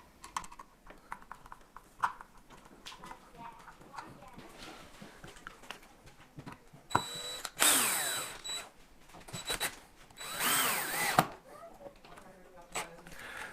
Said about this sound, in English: Then you're just going to start screwing it in.